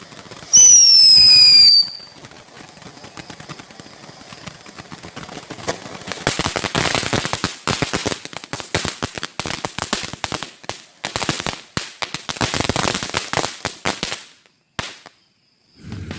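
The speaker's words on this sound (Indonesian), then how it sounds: "Sekarang kita lanjut lagi nyalakan mercon air mancur." A shrill whistle at the start, then a long stretch of rapid crackling and popping from a fountain firework, dense and loud, fading out near the end.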